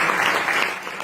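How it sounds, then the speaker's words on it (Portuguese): A church congregation at a revival service applauds the Lord, a dense, moderately loud patter of many hands clapping that tapers slightly toward the end. "Será que você pode aplaudir o Senhor Jesus Cristo?"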